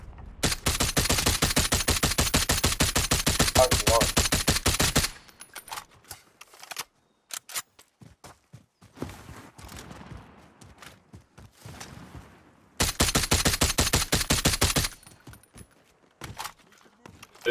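Rapid automatic gunfire in Call of Duty: Modern Warfare, two loud sustained bursts of fast shots separated by a quieter stretch of scattered distant shots and game sounds.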